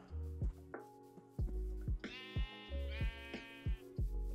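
Sheep in a Minecraft modpack bleat repeatedly in loud, close game calls, mixed with sharp chopping-like game effects at a steady rhythm and no talking.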